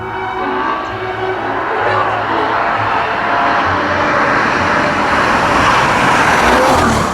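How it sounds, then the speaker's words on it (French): A Ferrari FF engine revs hard toward 8000 rpm, a loud, continuous rising roar heard from a distance as the car passes, with road noise swelling underneath. "Jusqu'à 8000 tours, c'est une poussée riche en arpèges et musicale comme jamais."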